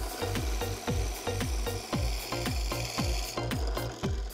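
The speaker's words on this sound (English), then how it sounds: "We drill the 30 holes, each 10 millimetres deep." A drill press bores a row of holes 10 millimetres deep into a wooden block, producing a steady run of evenly spaced plunges, each a short descending whine-and-cut, about two per second, close and loud with no talk.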